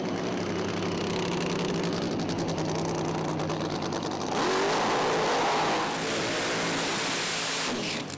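Nitro funny cars, one a 1957 Chevrolet, run at a Sydney outlaw drag racing event: a loud continuous engine roar with crackling that swells midway, heard from trackside.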